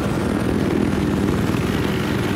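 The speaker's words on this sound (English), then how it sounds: "I spotted an enemy helicopter." An enemy helicopter in a combat video game gives a loud, steady rotor and engine roar that fills the whole stretch evenly, with no voices over it.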